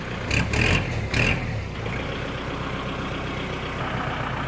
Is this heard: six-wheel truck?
yes